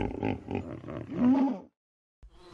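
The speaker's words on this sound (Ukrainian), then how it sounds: "Бегемот" A low, rumbling hippopotamus roar with grunting pulses lasts over a second, then cuts to silence before a faint noise returns.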